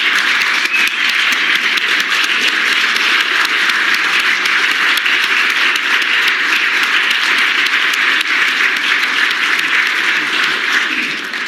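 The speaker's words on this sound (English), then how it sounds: "give them a big round of applause" A chamber of legislators gives loud, sustained applause to legislative services staff, a dense and even roar of many hands clapping continuously without a break.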